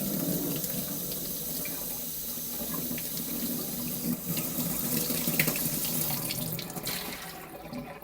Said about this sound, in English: so let's get some cold water in there